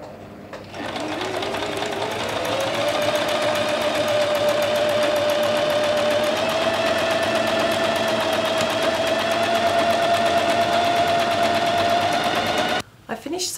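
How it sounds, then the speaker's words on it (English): A sewing machine stitches a ruffle for a summer dress, running in one long continuous burst of rapid, close, loud whirring that rises slightly in pitch as it gets going, then stops with a short pause and a brief restart. "And now we're ready to sew."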